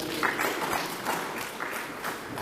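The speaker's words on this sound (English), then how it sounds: "Let's give her another big round of applause." Applause from a youth dialogue audience in a regional meeting hall, a dense, even patter of many hands clapping throughout, moderately loud with faint voices mixed in.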